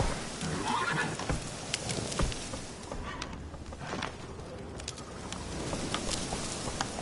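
The horse Roach in The Witcher 3 lets out a short whinny near the start, set against a busy game soundscape of patter resembling rain and scattered sharp clicks.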